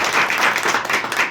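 A crowd at a coaching-class celebration for tenth-grade exam results claps loudly, a short dense burst of many hands clapping together at close range.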